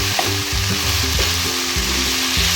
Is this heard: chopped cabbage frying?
yes